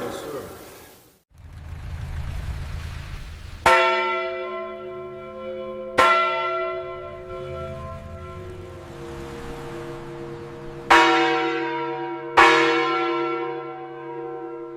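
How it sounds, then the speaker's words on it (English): Catholic church bells ring out in separate, resonant strikes, each one clanging loud and then fading through a long shimmering decay, about five strokes spaced several seconds apart over a low background rumble. "Bells start ringing."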